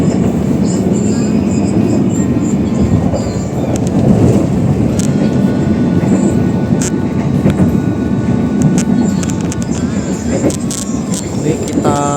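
Passenger train running at moderate speed between Bumiayu and Purwokerto, heard from onboard as a loud continuous rumble of wheels and carriage noise with faint clicks and creaks throughout.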